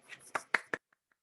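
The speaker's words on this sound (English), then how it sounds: "Golf clap." A few soft, polite golf claps in a classroom: three light, evenly spaced pats follow a brief voice, then fade into a couple of faint, distant taps.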